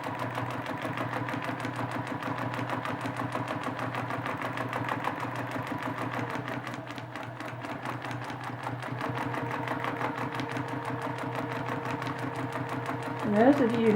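A sewing machine stitches a meandering quilting pattern on a friendship-map quilt, running close and steady with a rapid, continuous needle rhythm; it briefly slows midway and resumes, with a faint voice at the very end.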